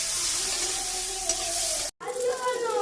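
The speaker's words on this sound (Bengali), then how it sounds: "চিংড়ি মাছটা ভাজা হয়ে গেছে" Prawns frying in oil in a wok give a steady close sizzle with a faint hum, cut off abruptly before a softer, more broken sizzle resumes.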